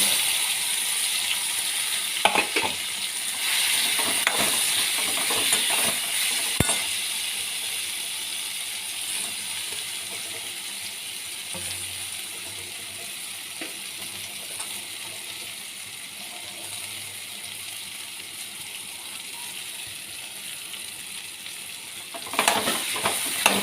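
Elephant foot yam fries in a wok as a quiet, continuous sizzle, broken by occasional scraping stirs and sharp clinks of the utensil against the pan.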